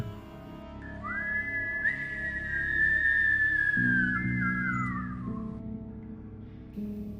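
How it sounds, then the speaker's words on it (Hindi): A long, wavering high whistle rises and holds for several seconds before sliding down and fading, over a low steady background hum. "इस बार सीटी की आवाज छत के ठीक नीचे से आई"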